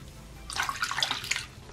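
Water splashes and sloshes in a basin in short irregular bursts, close and fairly quiet, starting after a brief pause.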